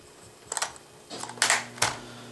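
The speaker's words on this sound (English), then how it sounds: "you can always just stow this away in here, like that, and then close it up" Logitech K400 Plus keyboard's dongle storage compartment handled and snapped shut: a light plastic click, then two sharper clicks close together, near and alone in a quiet room.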